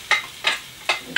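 Food frying in rapeseed oil in a pan, with a few short, bright crackling bursts at regular intervals over a low background hiss.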